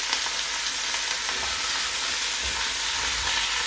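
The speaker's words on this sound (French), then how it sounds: "On fait revenir les oignons avec la viande." Onions and lamb meat fry in a pan with a loud, steady, close hiss and crackle, with no voices over it.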